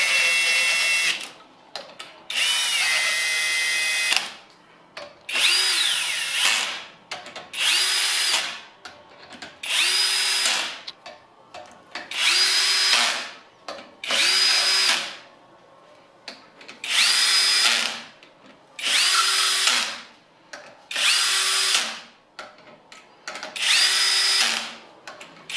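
A power drill drives bolts down on a composite mold in repeated short whirring bursts, about ten in a row with brief pauses between, close and loud with no talking.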